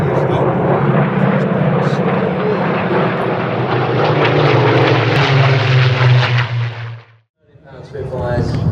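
A Supermarine Spitfire at an airshow roars past loud and close with a steady, throaty piston-propeller drone. It cuts away abruptly near the end, then returns briefly.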